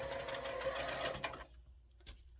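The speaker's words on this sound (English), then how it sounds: "I'm going to stitch from the bottom this time. And just stitch right on your line, corner to corner." Sewing machine stitching a quilt block corner to corner, a fast, steady whirring run for about a second and a half, then it stops with a small click, close by.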